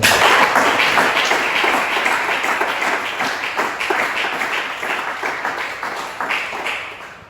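A church congregation applauds together, dense sustained clapping that fills the room and rises to a lively peak before tapering off slowly, with a few scattered voices beneath.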